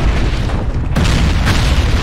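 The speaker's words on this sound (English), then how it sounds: "that's way more explosions than I was anticipating." Loud, dense booming blasts in the video game Atelier Ryza, continuous and layered, with a sharp new burst about halfway through.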